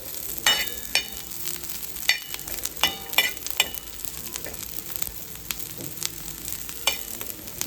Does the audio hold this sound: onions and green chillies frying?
yes